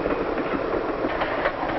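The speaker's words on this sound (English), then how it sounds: "And sometimes the train goes through the mountain itself" A 1950s passenger train runs along mountain tracks, giving a steady rolling rumble with faint clickety-clack of the wheels on the rails throughout.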